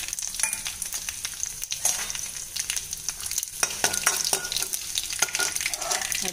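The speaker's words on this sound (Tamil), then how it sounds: "கடுகு பொரிய ஆரம்பித்தாச்சுங்க" Mustard seeds and spices crackle and sizzle in hot oil for a dal, with sharp popping and spattering over a constant frying hiss, close by.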